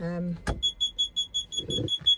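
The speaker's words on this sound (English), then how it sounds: "And that alarm, which I'm pretty sure isn't standard" An aftermarket electronic alarm fitted to a Morris Minor classic car beeps in a steady, rapid series of repeated high tones, with a brief voice at the start and some low rumble partway through.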